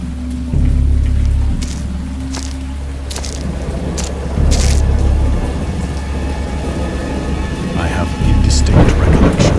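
Thunderstorm with repeated deep rolls of thunder over steady rain, loud and close, the low rumbles swelling in several waves.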